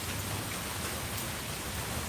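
Rain falls on an outdoor concrete surface in a close, uniform hiss of countless drops, unbroken and without any talking.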